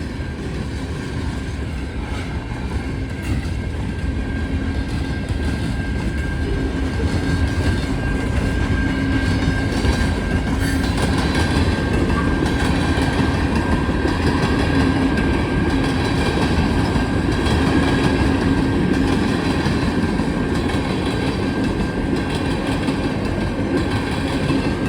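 A long freight train rumbles steadily past an active railroad crossing with signals, loud and close, its continuous wheel clatter and rail noise holding at an even level throughout with no voices.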